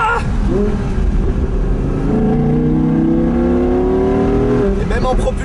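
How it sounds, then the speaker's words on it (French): Audi R8 V10 RWS, a rear-wheel-drive sports car with a V10 engine, heard from inside on winter tyres as the engine revs and climbs steadily in pitch, loud and close, with a drone of road noise underneath. "Et le bruit du V10, ça."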